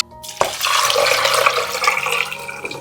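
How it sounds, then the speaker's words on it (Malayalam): Water splashes steadily and close up into a pot of payasam, a continuous rushing pour with no voices. "ഇനി ഇത് വേവിച്ചെടുക്കുന്നതിന് ആവശ്യമായിട്ടുള്ള വെള്ളം ഒഴിച്ചു കൊടുക്കാം."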